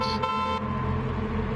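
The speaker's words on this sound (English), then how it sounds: "Oh yeah, they got horns." Car horns sound at a race, a loud, sustained multi-tone honk lasting under two seconds, nearby and alone without talk.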